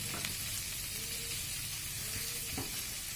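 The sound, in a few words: curry leaves frying in a pan with chicken and capsicum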